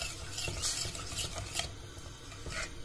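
A spoon scrapes and clinks against a pot as someone stirs a thickening starch mixture for walnut sucuk and pestil, with irregular close scraping strokes over a low background bubble.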